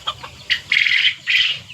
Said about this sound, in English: the bantam chickens, they have